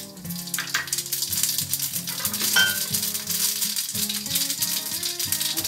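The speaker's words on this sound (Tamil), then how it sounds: "இப்போ கடுகு சேர்த்துடலாம்." Mustard seeds sizzling and popping in hot coconut oil while making Tamil mor kulambu, a dense continuous crackle with rattling bursts as the seeds jump, close and fairly loud, with no talk.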